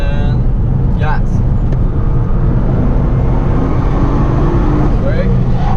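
A Nissan GT-R accelerating on a race circuit gives a loud, continuous engine drone heard from inside the cabin, with someone talking over it.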